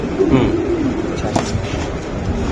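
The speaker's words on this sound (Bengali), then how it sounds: "কবুতরের কোয়ালিটি মাদি কবুতর, খাতারনাক ব্র্যান্ডের কবুতর" Racing pigeons coo at close range in a loft, low rolling calls mixed with someone talking over them.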